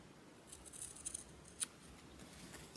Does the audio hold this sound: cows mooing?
no